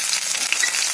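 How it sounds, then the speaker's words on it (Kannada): Chopped garlic and green chillies fry in hot oil, a close, loud, continuous hissing sizzle with no voices. "ಚೆನ್ನಾಗಿ ಫ್ರೈ ಮಾಡ್ಕೊಳ್ಳಿ"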